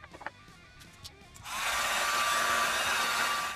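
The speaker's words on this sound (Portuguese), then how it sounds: "Agora com bastante barulho ao fundo daquela obra do governo até hoje." Loud broadband construction noise from a government works site starts abruptly after quiet handling sounds and continues steadily, like a power tool or grinder running nearby during screen printing work.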